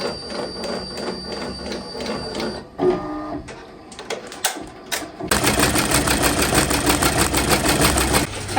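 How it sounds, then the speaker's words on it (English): An embroidery machine stitching out a baby bib design, running a loud, steady rapid needle rhythm that pauses briefly midway, then resumes with a denser, louder stitching drone, close by. "while that's getting stitched out, I'm going to be cutting my fabric"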